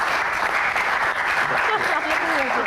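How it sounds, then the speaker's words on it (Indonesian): Studio audience clapping steadily and loudly for a rock-music talk-show guest, a dense even applause with a voice speaking over it toward the end. "Wih, tepuk tangan."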